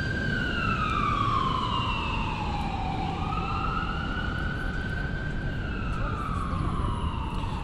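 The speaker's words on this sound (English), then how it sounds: "That's why this siren's wailing." A video game siren wails without a break, sweeping up and down in long loud cycles over a steady heavy rumble, with no voices.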